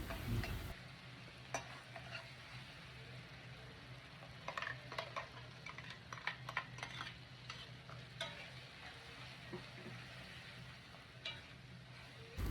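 Vegetables for a homemade Surti undhiyu sauté and get stirred in a pan, a soft steady sizzle with scattered scraping and clinking of the spoon against the metal, close and alone.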